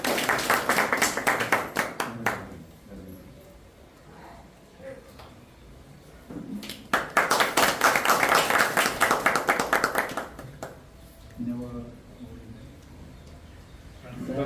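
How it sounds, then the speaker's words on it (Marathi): An audience at a hundredth Ganesh festival celebration in Devghar, Wada taluka, bursts into loud, dense clapping in two long rounds, with a speaker's voice heard in the gaps between them. "जोरदार टाळ्या"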